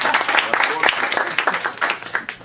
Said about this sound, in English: An applaud for her.